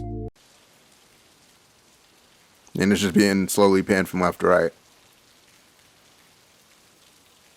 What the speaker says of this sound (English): I added some ambience. I added this rain loop.